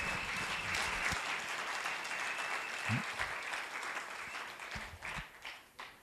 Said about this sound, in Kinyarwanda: Oh, amashyi menshi ku Mwami Yesu Kristo.